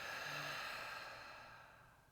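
A slow, soft exhale through the mouth during a guided breathing exercise, a gentle airy breath that fades out over about two seconds, heard alone and fairly quiet.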